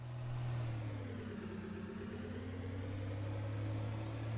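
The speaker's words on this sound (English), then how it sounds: "it looks absolutely fantastic as this car, and it sounds so nice as well" Car engine running steadily at a low, even pitch with a slight swell in revs near the start, heard up close in a farming setting and alone without talk.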